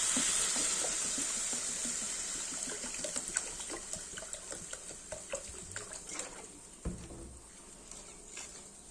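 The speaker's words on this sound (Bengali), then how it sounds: "জল দিয়ে দিচ্ছি পরিমাণ মতো।" Water poured into a Bengali fish and potato curry with amaranth stalks simmering in a pan, a steady hiss of pouring that gives way to soft bubbling and sizzling.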